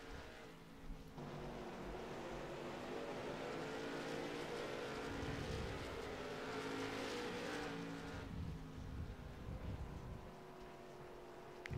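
Race car engines drone around the short Oxford oval in a sim racing video game, a steady mid-loudness whine that swells as the cars pass and fades slightly near the end, with no talk over it.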